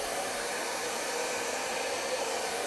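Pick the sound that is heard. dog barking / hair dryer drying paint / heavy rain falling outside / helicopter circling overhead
hair dryer drying paint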